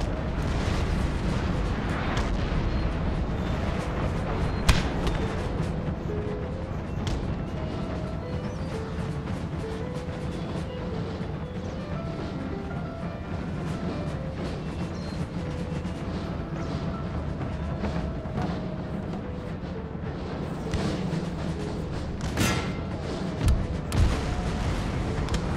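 Cannon artillery fire in the Napoleonic battle game Napoleon: Total War, scattered booms and blasts popping out over a continuous battlefield din and music at moderate volume.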